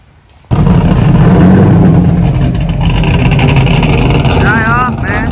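A Pontiac Firebird V8 engine roars loudly from a sudden start and holds a strong, rough revving drone throughout, with excited voices calling out over it.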